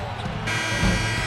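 At a Warriors at Pelicans NBA basketball game, the arena buzzer blares as a sustained harsh tone over a loud crowd roar, starting a moment in and holding to the end.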